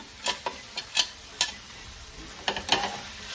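Onions sautéing in a pan with salt, green chili, ginger, garlic and curry leaves: a soft, low sizzle broken by a few sharp, separate clicks and scrapes from a stirring utensil.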